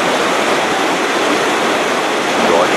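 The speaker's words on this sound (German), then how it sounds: "So wie hier zum Beispiel diesen schönen Fluss, der von einem der Wasserfälle gespeist wird." A river fed by the waterfalls of Espeland Falls in Norway rushes in a steady, loud broadband roar of flowing water, constant throughout with no breaks.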